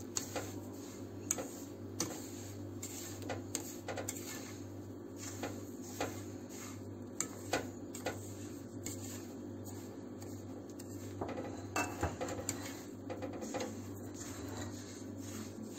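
A spoon scrapes and taps intermittently against a pot while semolina halva is stirred with sugar, over a steady mechanical hum, the scrapes sharp and irregular throughout.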